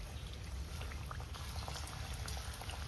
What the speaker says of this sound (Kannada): ಇವಾಗ ಎಣ್ಣೆ ಕಾದಿದೆ ನೋಡಿ, ಒಂದೊಂದನೇ ಈ ರೀತಿ ಇಟ್ಟು ಫ್ರೈ ಮಾಡ್ಕೊಳ್ಳಿ